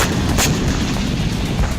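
Israeli air strike on southern Lebanon at night: a heavy, continuous rumble of explosive booms with a sharper blast near the start, loud and steady, with no voices.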